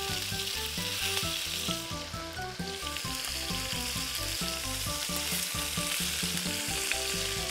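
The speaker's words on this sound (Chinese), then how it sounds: "我哋慢慢煎香佢，因為呢個雞髀都比較厚啊，所以我哋要慢慢煎嘅" Thick chicken thighs pan-fry slowly in hot oil over low heat for a herbed chicken dish, giving a steady, close, continuous sizzle with faint crackle and no talking.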